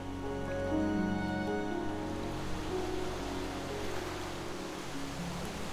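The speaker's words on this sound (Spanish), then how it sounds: "Solo viento, oscuridad y agua golpeando desde todas direcciones." Ocean waves crash and seethe around the La Jument lighthouse at sea, a dense, continuous roar of surf and spray with steady intensity, accompanied by faint tonal music underneath.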